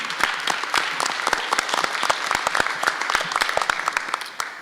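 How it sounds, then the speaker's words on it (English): An audience at a Milwaukee mayoral candidate forum applauds, a steady burst of dense clapping from a crowded room lasting several seconds, with no talk over it. "I want to give you guys a hand for coming out"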